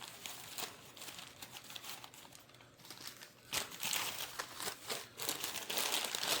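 Packing paper being crumpled and stuffed by hand into a box, a steady run of close, loud crinkling and rustling with sharper crunches, no talking.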